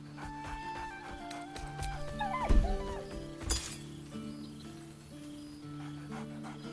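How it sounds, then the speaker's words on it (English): A dog in a video game gives a couple of sharp, excited barks amid soft ambient music and faint clinks, the barks brief and close against a quiet background. "Scratch barks merrily in something like agreement."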